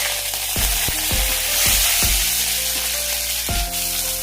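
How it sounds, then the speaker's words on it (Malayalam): Mustard seeds, curry leaves and shallots fry in a pan with a dense, steady sizzle, punctuated by several sharp stirring knocks and spoon taps close by. "ചെറിയുള്ളി കണ്ണാടി പരുവാകുന്നവരെ വഴറ്റിയെടുക്കാം."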